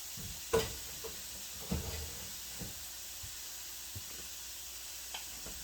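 Ham sizzling in a hot pan, a quiet steady frying hiss with a few soft clatters and bumps, no voices.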